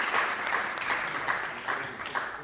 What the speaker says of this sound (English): If we could do another quick round of applause for our panel